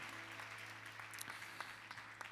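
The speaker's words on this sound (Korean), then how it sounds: "하나님께 감사와 영광의 박수로 올려드리고 하겠습니다." Church congregation applauding at a youth worship service, a steady wash of many hands clapping at moderate level with an organ-like sustained tone underneath throughout.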